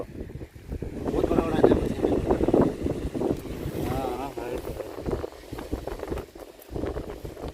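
Wind buffets the microphone over the open sea, gusting and roaring steadily, with a voice talking underneath at times.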